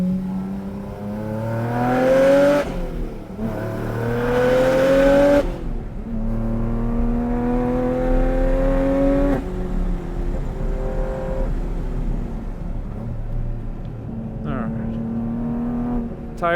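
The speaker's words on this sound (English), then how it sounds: "I've disabled the auto blip feature so I can heel toe the downshifts myself." Porsche sports car with manual transmission lapping a track, engine climbing hard through the gears with sharp rev-matched blips on heel-toe downshifts, loud and close with a steady mechanical drone underneath.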